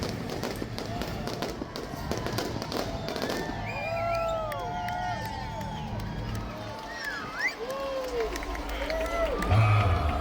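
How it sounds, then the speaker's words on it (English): Pirate night pyrotechnic fireworks show aboard the Disney Fantasy cruise ship at sea: steady crackling pops and bangs with whistling, swooping rockets overhead, over a constant murmur of crowd chatter and voices, ending in a louder low boom. "they will have a pirate night with the pyrotechnics. And it was a very long show"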